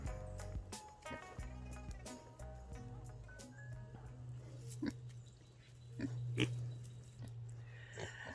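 Pigs named Bacon and Schnitzel grunt and oink on a farm, nearby and fairly quiet, with scattered snuffling and chewing noises over a low steady hum.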